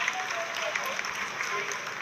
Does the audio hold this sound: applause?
yes